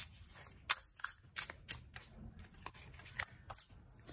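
Tarot cards shuffled and drawn up close, giving a series of crisp papery riffles and snaps in uneven bursts against a quiet room.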